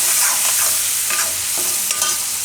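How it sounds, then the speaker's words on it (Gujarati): Carrots sauté in hot oil for Gujarati garlic carrots (lasaniya gajar), giving a steady close sizzle. Scraping stirs recur throughout, with no voices. "એકાદી મિનિટ આપણે શેકી લેવું આ રીતે તેલમાં"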